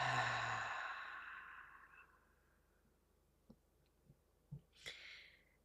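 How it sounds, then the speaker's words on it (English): A single long breath is exhaled through the mouth, soft and close, fading out over about two seconds, followed by a few faint clicks and a small sniff in near silence. "And exhale through your mouth."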